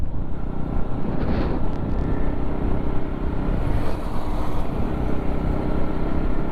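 A steady, dense engine roar mixed with rushing wind during a Sunday group motorcycle ride, heard from the bikes with no pause over several seconds.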